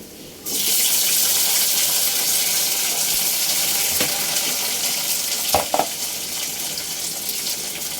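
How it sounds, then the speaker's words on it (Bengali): Tomatoes added to fried onions sizzle steadily in a hot pan, a loud constant hiss that starts abruptly near the beginning, with a couple of brief stirring clinks partway through and no talk. "পেঁয়াজ ভাজা শেষে এখন দিয়ে দিলাম টমেটো"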